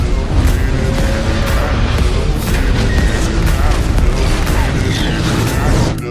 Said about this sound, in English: The bomb suddenly exploded.